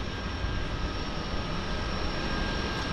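A Turbo Otter floatplane at a harbour airport runs its engine with a steady, continuous drone. It holds an even level throughout and sounds fairly distant.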